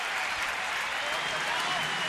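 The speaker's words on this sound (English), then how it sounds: "a standing ovation from the home crowd here in Nats Park" Home crowd at Nats Park gives a standing ovation during a baseball game, steady loud applause and cheering filling the stadium throughout with no break.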